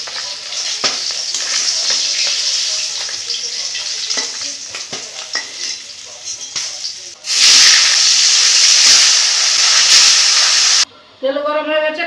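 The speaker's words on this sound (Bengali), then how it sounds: "এইভাবে সব মাছগুলো ভেজে নেব।" Pieces of silver carp fry in hot oil with a continuous close crackling sizzle, stirred now and then, swelling into a louder hiss partway through before cutting off briefly near the end.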